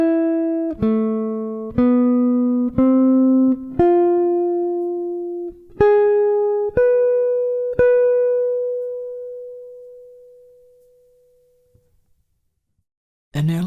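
A jazz guitar plays a four-bar single-note melody, clean and close, with about eight plucked notes in a steady rhythm before the last note rings out and slowly fades to silence.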